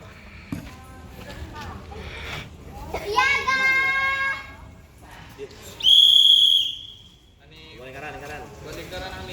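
A whistle blows sharply at a one-day children's scout camp, one long piercing blast rising over the chatter and shouts of children nearby, with another shorter whistle-like tone earlier amid the voices.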